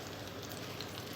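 Garlic and tempering seeds sizzling in hot oil in a pan on a stove, a steady dense crackle throughout, close and moderately quiet with no voices.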